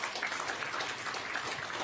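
Applause from a live dialogue audience welcoming a panelist, steady dense clapping filling the room throughout, moderately loud with no voices over it.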